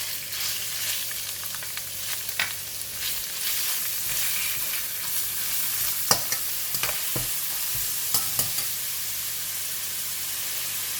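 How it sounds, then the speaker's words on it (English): Minced pork sizzles in a hot pan with oil and browned garlic, a steady close frying hiss broken by scrapes and clicks of stirring. "I'm going to put in the minced pork"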